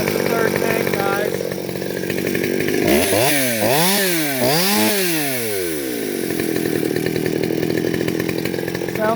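A Stihl MS200T chainsaw with all-OEM, mostly new parts runs close and loud, its two-stroke engine revving up and down in a few sharp swells before settling back to a steady idle.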